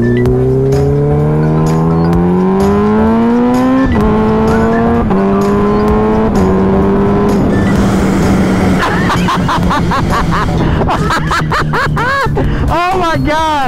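A supercharged Kawasaki Ninja H2 motorcycle accelerates hard through rising, stepped gear changes, then backs off with fluttering blow-off valve chatter and pops; loud and close throughout, with excited talk and laughter over it.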